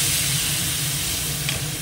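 Thin sea fish sizzles steadily in a pan as a splash of water is added, a loud, continuous hiss of frying close up.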